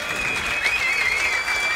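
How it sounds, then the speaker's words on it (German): Crowd applause and cheering at a Berlin rap battle championship, a thick roar of clapping with a sustained whistle riding over it, loud and continuous. "die ganzen MCs verdienen hier erstmal nochmal Applaus, machen mal Lärm"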